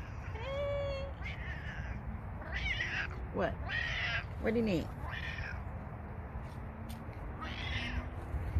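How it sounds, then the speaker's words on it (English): A cat in a garden meows repeatedly, several drawn-out close cries spaced through the clip, while a person talks softly to it. "Look at the cat."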